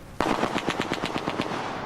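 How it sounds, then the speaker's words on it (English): A burst of automatic gunfire in Tripoli, Libya, about a dozen rapid shots in quick succession, sharp and fairly close, with no speech over it. "there's just been a blast of gunfire, which you heard behind me here in the capital city, Tripoli"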